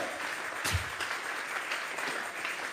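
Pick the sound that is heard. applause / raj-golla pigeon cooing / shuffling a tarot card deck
applause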